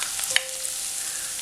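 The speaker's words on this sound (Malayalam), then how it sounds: "എണ്ണ ചൂടായി കഴിയുമ്പോഴത്തേക്കും ഇതിലേക്ക് ഇഞ്ചി വെളുത്തുള്ളി ചതച്ചത് ചേർക്കാം" Crushed ginger and garlic fry in hot oil with a steady, even hiss and a faint tap near the start, heard alone with no voices.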